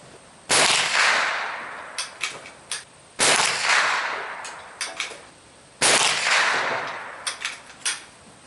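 Chiappa Double Badger .22 rifle firing Winchester 555 bulk ammo: three sharp, loud shots spaced a few seconds apart, each followed by a decaying outdoor echo and smaller impact clicks.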